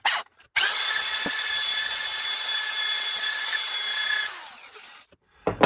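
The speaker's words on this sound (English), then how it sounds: "I get a 2-inch flap wheel for a drill" A power drill fitted with a 2-inch flap wheel whirs steadily with a high, grinding polish against metal on Mustang roller spring perch parts for several seconds, starting and stopping abruptly.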